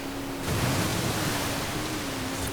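Broadband rushing splash of a car blasting through water in the racing game Forza Horizon 5, a steady loud wash of spray and engine noise that swells after a quiet start and holds for a couple of seconds.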